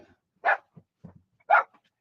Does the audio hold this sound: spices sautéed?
no